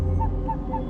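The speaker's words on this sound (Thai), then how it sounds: "ก็จะมีเสียงหมาเห่าหอน" Dogs howl in a steady, moaning wail with faint repeated rises, sustained through a dense, noisy night background at moderate level.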